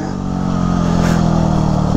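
Yamaha WR250 dirt motorcycle revving at full throttle out in Ohio country, a loud, steady, rasping engine roar heard close up and alone.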